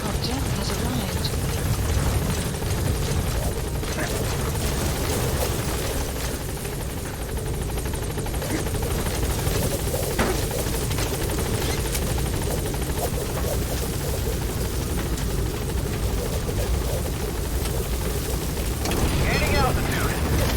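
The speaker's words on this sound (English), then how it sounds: "Support helicopter has arrived." Loud, continuous rotor thrum and engine roar of a support helicopter at a landing zone in Metal Gear Solid V, heavy and close throughout, with voices speaking over it.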